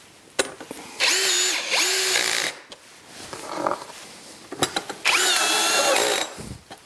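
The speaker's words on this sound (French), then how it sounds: "j'ai évidemment des vis adaptées qui sont à visser comme ça, dans les pré-trous" Cordless power driver screwing screws into pre-drilled holes on sectional garage door panels, with two long whirring bursts separated by handling clatter and a softer short run between them.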